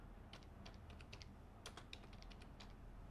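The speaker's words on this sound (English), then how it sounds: "So first type diskpart and press enter." Soft, quick key clicks from a computer keyboard while commands are typed, faint and irregular against a low background hum, with no voices.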